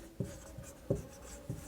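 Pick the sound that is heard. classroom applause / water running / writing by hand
writing by hand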